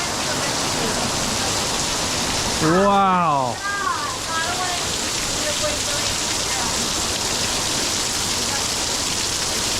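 Heavy rain pouring outside a garage, a dense steady hiss throughout, with a voice exclaiming over it.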